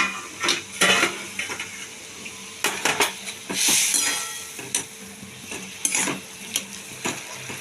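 Tomatoes cooking down in a pan for a Bengali prawn and banana-flower dish, stirred with a utensil: irregular scraping clinks and knocks over a soft sizzle, close by, with no speech.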